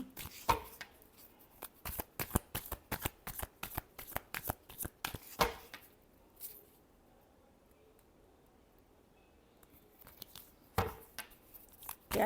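Tarot cards being shuffled, a rapid run of crisp riffling slaps and flutters for several seconds, then a quiet pause and a couple of final card snaps, close and clear, with no talking.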